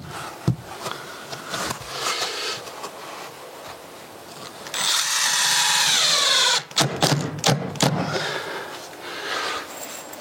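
Power drill drives screws into a ceiling during holiday home construction with wood fiber insulation, giving a loud sustained whir of about two seconds with short bursts after it, plus scattered handling knocks and clatter around it.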